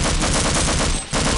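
Rapid automatic gunfire in Half-Life Episode 1: a loud, continuous burst of evenly spaced shots with a brief gap near the end before firing resumes.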